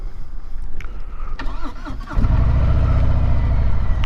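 A 2018 Harley-Davidson Sport Glide motorcycle cranks over for about two seconds, then catches and settles into a loud, steady, low rumbling idle, heard up close.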